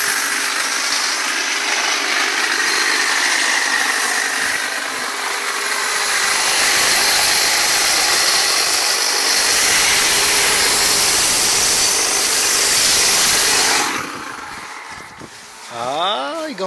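A Kobalt 40V battery hedge trimmer cuts through a bush with a steady, loud buzzing whir that runs on for many seconds, then drops away as a person talks.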